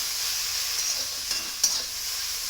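Jute leaf dal with turmeric being stirred in a pan, a soft steady sizzle with a couple of light clicks and one sharper clink of the spoon, no speech.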